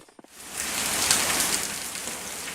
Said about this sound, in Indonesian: hujan yang tak kunjung reda